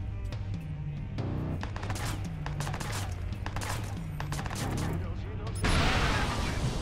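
Rapid gunfire and combat noise in the video game Watch Dogs, bursts of shots over a low musical drone, ending in a louder, broad explosion-like blast as an enemy is blown up.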